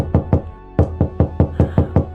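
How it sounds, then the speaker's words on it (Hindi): Knocking on a door in an animated story, seven sharp raps in two quick bursts, loud and close with no voices over them. "दरवाजे पर दस्तकें लगातार तेज होती जा रही थी।"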